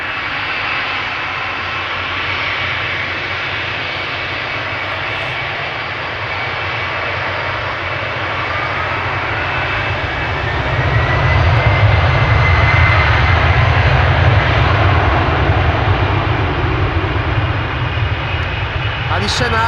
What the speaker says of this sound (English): I've lost track of how many 747s we've seen in the show already, landing or taking off.